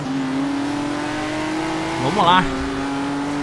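A 2017 Ford GT idles with a steady engine hum in the Forza Horizon 3 video game, then revs sharply in one quick rise and fall. Someone speaks briefly near the rev.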